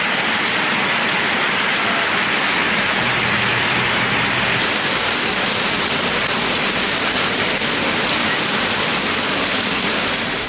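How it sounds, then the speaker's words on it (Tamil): Heavy rain pours down steadily in Thirumangalam, Madurai district, a dense, unbroken hiss that stays loud and even throughout with no voices. "மதுரை மாவட்டம் திருமங்கலம் மற்றும் அதன் சுற்றுவட்டார பகுதிகளில் பலத்த மழை கொட்டியது"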